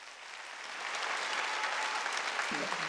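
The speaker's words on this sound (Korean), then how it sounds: "박수 쳐줘요." Church congregation breaks into applause for standing elders, a dense wash of many hands clapping that swells after the first second and holds steady, with a low voice creeping in near the end.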